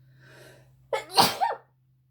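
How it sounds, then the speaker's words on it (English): A single close sneeze: a quick sharp intake of breath, then an explosive burst, ending abruptly in silence. "Oh, I'm going to sneeze."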